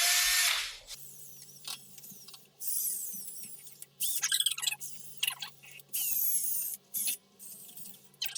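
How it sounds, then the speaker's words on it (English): A power tool fitted with a wire brush scrubs rust off front brake parts from a '98 Acura Integra GS-R, whining in a series of short and longer bursts, loud and close, separated by brief pauses. "you can see my wire brush on the end of the power tool here"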